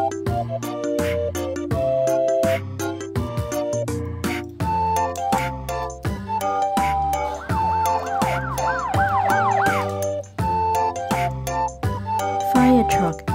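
A toy police car siren wails in rising and falling sweeps over a loud, bouncy children's music track, standing out clearly in the middle of the stretch.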